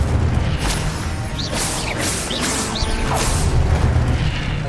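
Fire spells cast in the Hogwarts Legacy video game, a few rapid whooshing bursts with crashing impacts over busy game sound effects, close and fairly loud.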